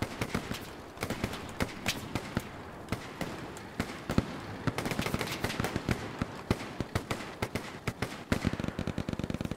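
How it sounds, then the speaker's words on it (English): An MG42 machine gun in the video game Hell Let Loose fires in repeated bursts of sharp, rapid cracks, loud and close, with a denser stream of shots toward the end. "there's an MG42 gunner there"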